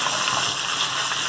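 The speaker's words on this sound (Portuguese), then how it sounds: "Agora eu tô acrescentando água." Water poured into a hot pan of frying pork ribs produces a steady, loud rushing sizzle and hiss that fills the whole short moment without pause.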